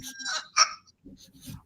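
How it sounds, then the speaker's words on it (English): Rooster crowing in short broken bursts, fairly close and loud, followed by a few faint low clucks. "And there's the rooster."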